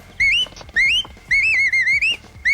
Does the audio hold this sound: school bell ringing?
no